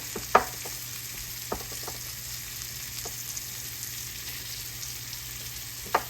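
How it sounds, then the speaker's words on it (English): Butter sizzles in a pan while shrimp are blackened, a soft steady hiss broken by a few sharp scrapes and taps as the butter is pushed around, with no one speaking. "I like to use butter when I blacken anything. And move that butter around."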